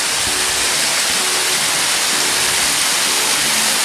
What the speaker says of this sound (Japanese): ほら小さいけど滝になってるんですよね。